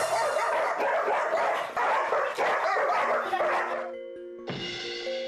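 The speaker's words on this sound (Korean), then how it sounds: "하지만 고미를 보자마자 맹렬히 짖는 복실이" Large dogs barking fiercely at each other at close range, dense overlapping barks and yips for about four seconds, then a short pause before more agitated yelping resumes.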